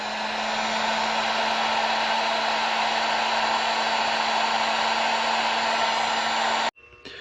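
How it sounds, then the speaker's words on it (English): A heat gun blows hot air onto a Jeep TJ fuel injector connector in a steady, loud, unbroken whoosh with a constant hum, then cuts off abruptly near the end; no one speaks. "we didn't have open fuel here while we're using a heat gun"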